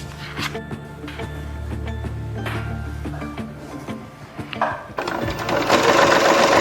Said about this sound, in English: Now you want to sew right sides together.